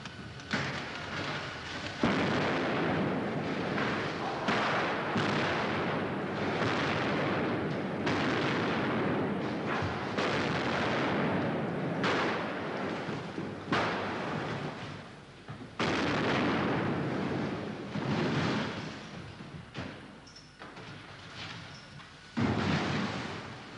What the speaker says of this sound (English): extra cameras are brought in to capture the final explosion